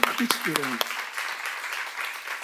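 An audience at a church seminar breaks into applause, a broad hiss of clapping that continues steadily after someone speaking into a microphone stops.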